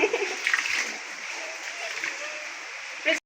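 Flood water splashes and churns in a continuous, fairly loud wash that runs for a few seconds around a home, with a brief voice at the start and a sharper surge at the end.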